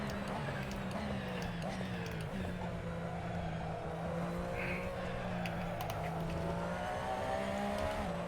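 A Porsche 911 RSR race car in a racing video game at Road Atlanta, a steady, loud engine drone holding a near-constant pitch with slight rises, while someone talks over it.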